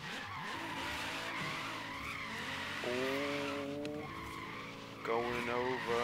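Tires screeching as a widebody Nissan GT-R R35 drifts in Forza Horizon 3, with a sustained engine roar and pitch-shifting squeals that swell and fade in long slides.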